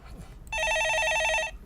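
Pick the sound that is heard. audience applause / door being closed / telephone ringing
telephone ringing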